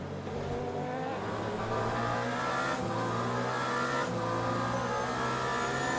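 A hypercar engine accelerates in the racing game Le Mans Ultimate, giving a steady loud drone with rising revs and brief dips at gear changes.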